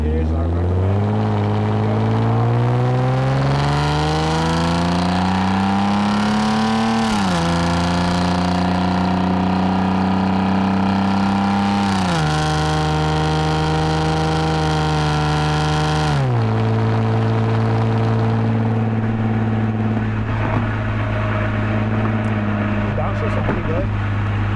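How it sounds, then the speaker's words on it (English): A Lexus IS250 AWD engine revs and drops pitch through several stepped downshifts while driving at night, a loud, steady drone inside the cabin with occasional faint voice. "Downshifts are pretty good."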